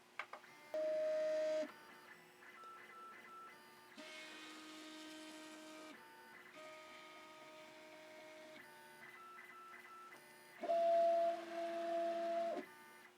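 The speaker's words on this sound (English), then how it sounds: "we can go ahead and hit the button, and it's going to do a 9-point level" A Prusa MK2.5S 3D printer with a steel sheet runs its 9-point bed level, stepper motors whining in distinct tonal bursts, with some louder segments, and short pauses between probe moves, fairly quiet and close.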